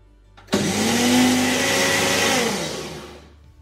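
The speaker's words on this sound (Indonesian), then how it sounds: "Sekarang saya mau blender lagi jadi satu." An electric blender grinds homemade Dutch speculaas spice mix, starting abruptly with a loud, steady whirring motor that holds for about two seconds, then winds down and fades out; no talking.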